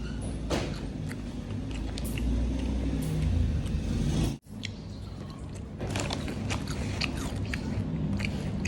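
Crunchy MY SNAXX kimchi cheese snack chips being bitten and chewed close up, a steady run of loud crisp crunches with a brief pause midway, no talking.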